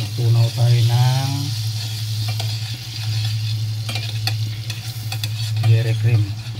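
Dairy cream melting in a hot pan, a loud, close sizzle and bubbling under repeated stirring scrapes, with someone speaking briefly at times.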